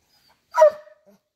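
A single short dog bark, fairly close, followed by a brief quiet whimper against a silent background.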